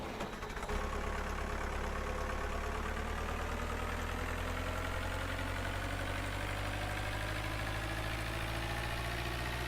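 A tractor engine idles in the video game Farming Simulator 2011, a steady low rumbling drone that starts abruptly and then holds even and close throughout, with no talk.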